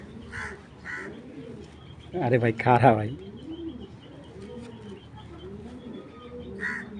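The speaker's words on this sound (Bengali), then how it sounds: "দেখেন নর মাদি দুইটাই কি সুন্দর করে ডাকে" Male and female racer pigeons coo softly in a low, repeated burble, close by, while someone talks over them and hands briefly handle the birds in a louder burst.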